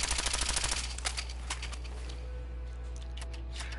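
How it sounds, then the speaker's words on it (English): Machine gun fire in Fallout 4: a rapid, rhythmic burst of shots up front, then scattered single cracks over a steady low hum. "This is the machine gun I want."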